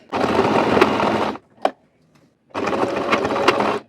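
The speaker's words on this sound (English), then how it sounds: "I'll sew this place from here to this side." An electric sewing machine stitches short pants with pockets, running in two steady bursts of fast, whirring stitching, close and loud, separated by a short pause with a single click.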